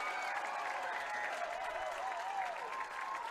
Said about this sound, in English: Both sets of fans on their feet, cheering on their sides.